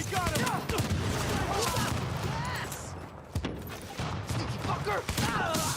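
Gunfire in The Division video game during a global event, dense rapid bursts of shots over a constant rumbling game soundscape, with voices talking in the background throughout.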